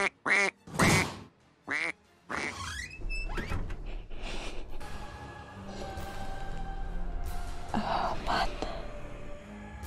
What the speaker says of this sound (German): Ich glaube, es soll eine Gans sein.